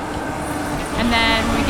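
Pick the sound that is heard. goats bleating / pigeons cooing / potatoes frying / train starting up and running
train starting up and running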